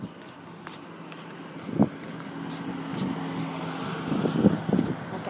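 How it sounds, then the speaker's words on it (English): A car drives past on a residential street. Its low engine hum and tyre rush swell gradually toward the end, and a few scuffs and taps sound nearby. "Here comes the car."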